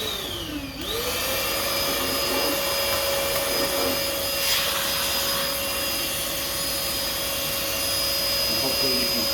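A Ryobi PCL704 18V cordless hand vacuum spins up in the first second, then runs steadily with a whirring airflow rush and a high whine, close and constant for the rest of the stretch.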